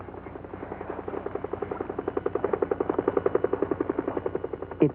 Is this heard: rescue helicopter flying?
yes